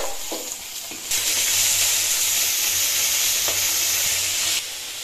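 Bitter gourd hits hot oil and sets off a loud, steady sizzle that lasts several seconds before cutting off, with a few clicks of stirring before it starts.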